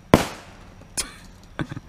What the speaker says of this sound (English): We do have more fireworks, but we just decided to shoot these for a while.